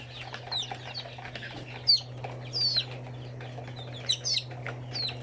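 Chickens on a farm give scattered soft clucks and short chirpy calls at moderate distance over a constant low electrical hum.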